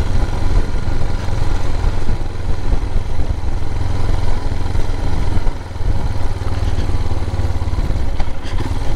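A motorcycle descends mountain switchbacks in second gear above the Abergwesyn Valley in Wales, its engine a steady, close, low chugging rumble with light clatter and a brief dip near the middle.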